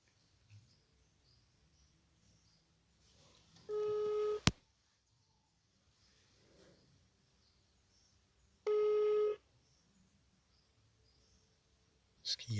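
A telephone call rings out on the line, with two long ringback tones several seconds apart and near-silence between them. A couple of faint clicks can also be heard.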